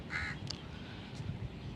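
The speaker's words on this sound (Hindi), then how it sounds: "डरपोक कौआ" A crow caws once, short and fairly distant, outdoors over a low background rumble, followed by quieter ambient noise.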